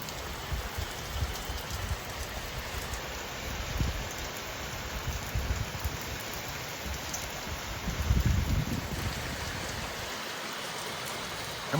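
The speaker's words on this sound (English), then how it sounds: "The craziest rain we've had on the trip is here" Steady heavy rain pours down, a dense constant hiss with drops pattering on surfaces, no voices, lasting throughout at an even level.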